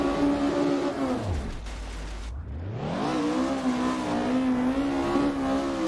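A rally car in Richard Burns Rally revs hard on slick gravel; the engine note drops sharply then climbs back up and holds a loud, steady, close whine throughout.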